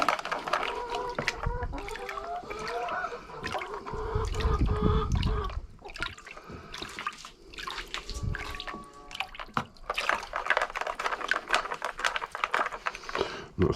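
Water and sand swirled aggressively in a gold pan to wash out metal while recovering gold from flat packs, a continuous close sloshing and splashing with rhythmic surges, no talking.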